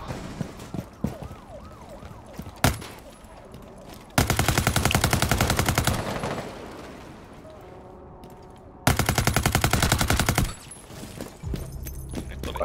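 Gunfire in Rainbow Six Siege: scattered single shots, then two loud sustained bursts of rapid automatic fire several seconds long, with softer game effects between.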